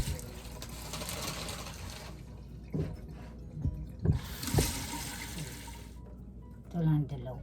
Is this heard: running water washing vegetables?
yes